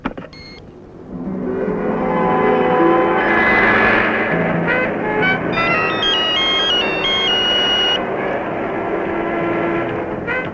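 A telephone rings during a call with a stepped electronic melody, heard over a loud, steady background rumble with no talking.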